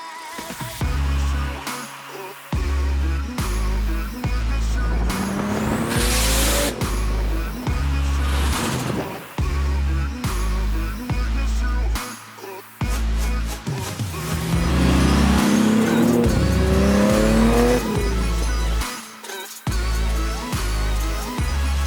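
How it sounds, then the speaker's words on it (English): A 500 hp RB30-powered R33 Skyline and a single-turbo Supra driving on a road, with loud engine roar rising and falling through repeated gear changes and revs, and brief lulls between pulls. "So let's head out on the road and go for a drive."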